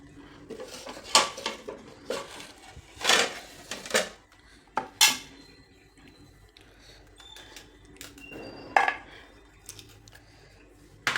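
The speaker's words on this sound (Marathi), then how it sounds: "तर खोबरेल असे छोटे छोटे अशा पद्धतीने कापून घ्यायचे किंवा खिसून घेतलं तरी चालेल" A knife cuts dried coconut into small pieces on a kitchen surface, giving a scattered series of sharp clicks and knocks at an uneven pace, close by and with no talking.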